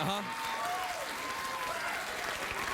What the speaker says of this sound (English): Some nights you walk out here and that raucous applause and that standing ovation, sometimes it just smacks of insincerity